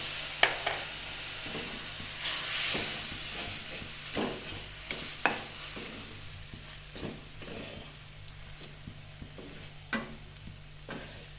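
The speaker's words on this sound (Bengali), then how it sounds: "এবার ভালো করে এটাকে নেড়ে চেড়ে হওয়ার জন্য আমি একটু জল দিয়ে দিলাম।" A stuffing of spiny gourd filling with half a spoon of garlic paste is stirred in a pan after a little water goes in, giving a soft sizzle broken by scraping strokes at an irregular pace, fairly quiet and close.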